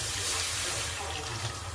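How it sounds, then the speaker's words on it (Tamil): Water pours into a cooking pan of sautéed tomatoes, onion, curry leaves and garlic, a brief, close, steady splashing gush. "இது தண்ணி ஊற்றணும்"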